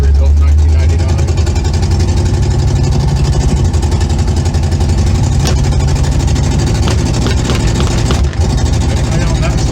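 A rebuilt 283 V8 in a 1962 Chevy Impala runs loud and close with a steady, throbbing low rumble throughout, with voices talking over it.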